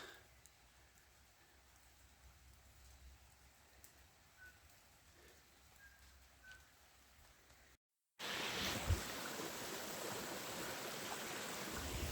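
A small creek trickles through the bush of the Port Hills, faint and steady with soft birdcalls, then a sudden cut to a much louder, closer gurgling rush of water.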